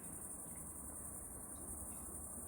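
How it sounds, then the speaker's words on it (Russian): Crickets in a seaside resort arboretum in Gelendzhik on a July evening, a steady, shrill, unbroken chirring that fills the background at low level, with no other sounds standing out. "Сейчас сверчки сменили цикад."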